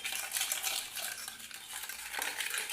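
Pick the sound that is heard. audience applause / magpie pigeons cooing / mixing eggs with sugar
mixing eggs with sugar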